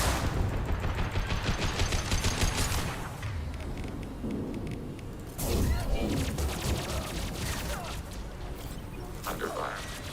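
Gunfire in Mass Effect 2 during a combat fight: dense, overlapping bursts of weapon fire and heavy impacts crackle continuously at close range, with a fresh louder volley kicking in midway.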